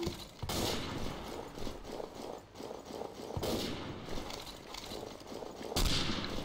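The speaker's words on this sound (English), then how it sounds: "Why am I shooting with a rifle?" Rifle gunfire in the war video game Day of Defeat: Source, with sharp repeated shots and bursts cutting through constant noisy battle ambience, some blasts loud and close.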